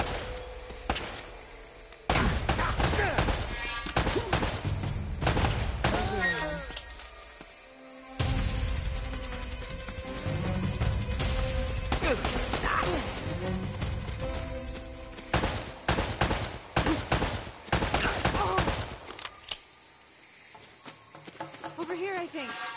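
Gunfire in Uncharted: Drake's Fortune, bursts of automatic and single shots in loud clusters separated by brief lulls, with jungle insect ambience and character voices in between.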